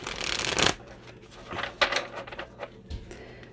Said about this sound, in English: So I'm just going to pull some more cards to see what this person is like.